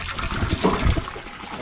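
Water gushing from a hand-pumped faucet in a short, steady stream, with a brief louder surge near the middle, close by, with no talk.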